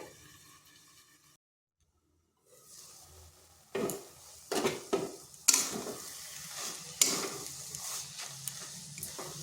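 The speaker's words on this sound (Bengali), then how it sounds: "নেড়ে নিচ্ছি, মানে নুনের সাথে মিশিয়ে নিচ্ছি" Water spinach greens and lentils with salt get stirred in a pan, starting nearly silent, then a soft sizzle comes in with a series of close scraping stirs and clatters that grow louder toward the end.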